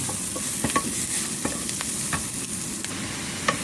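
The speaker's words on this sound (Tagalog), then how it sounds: "ginisa-gisa natin ang bawang at sibuyas" Garlic and onion sauté with pork in a hot pan, a steady close sizzle broken by sharp clicks and scrapes of a spatula stirring at irregular intervals, no voices.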